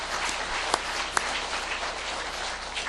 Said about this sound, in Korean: 우리 한 번 더 박수로 인사드리겠습니다